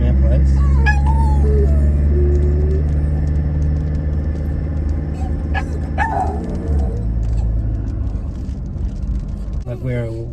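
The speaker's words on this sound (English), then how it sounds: "As you can hear, I'm driving up a hill to get away from our place." An SUV engine gives a steady low rumble as it drives up a hill, while a dog yips and whines in the cabin and a person talks over it.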